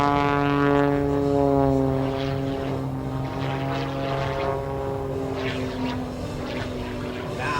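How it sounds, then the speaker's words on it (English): MX aerobatic propeller plane performing torque rolls and tumbles at an air show, its engine droning loud and close with a strong harmonic buzz that slowly drops in pitch as it moves away, crowd noise faint beneath. "Torque roll on the way up. And he begins to tumble the aircraft."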